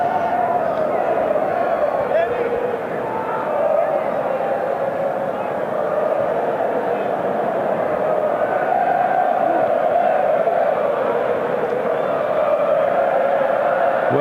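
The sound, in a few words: rugby stadium crowd cheering in Pretoria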